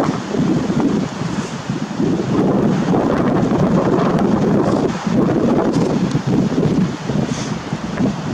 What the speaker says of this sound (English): Having 50 to 100 mile per hour gusts here in Denver.